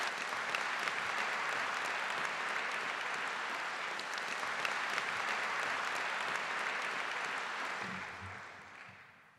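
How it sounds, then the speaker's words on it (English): Sustained applause from a large crowd at a university doctoral hooding ceremony, steady and full, fading out near the end. "Can we please have one more round of applause for our outstanding"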